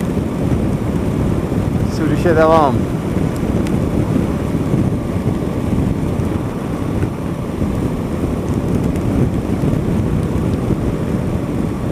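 Rain and wind noise rush steadily over a motorcycle ride on a wet road, a loud constant roar buffeting the microphone, with a brief voice speaking early on.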